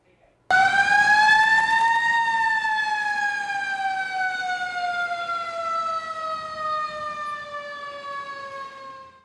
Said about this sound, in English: sirens like the one you just heard went off at the ceremony